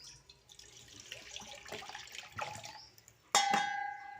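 Water runs and splashes in a kitchen during washing up, a faint trickle that grows and then ends with a sudden bright metallic clang of a vessel.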